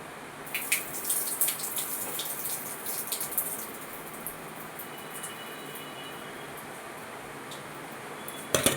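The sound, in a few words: water poured over lentils to wash them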